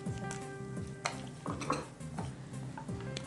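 Whole garam masala spices, cinnamon sticks, cardamom and cloves, stirred in a hot pan, giving a faint sizzle with repeated scraping and clinks of a spoon against metal, no speech.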